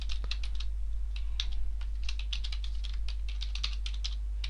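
Quick, irregular clicking of computer keyboard keys while a name is typed into an online form, steady and fairly close, over a constant low electrical hum.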